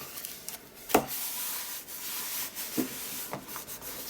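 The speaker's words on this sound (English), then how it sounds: "And then just give it a rub." A painted surface is rubbed by hand, giving faint, close scuffing strokes in a quiet room, with a few brief, slightly louder rubs spaced irregularly.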